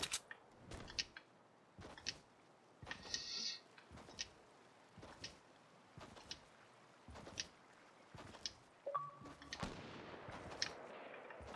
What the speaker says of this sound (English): Sniper fired behind me.